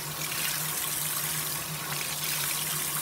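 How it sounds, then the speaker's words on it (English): Water pours steadily onto soil in a small garden seedling pot of a six-pack tray, a continuous close trickling gush running without a break, with no talking. "now I'm going to put a little water, but that water is moving a little faster than I want."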